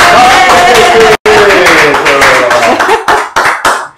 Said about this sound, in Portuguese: vamos aplaudir aí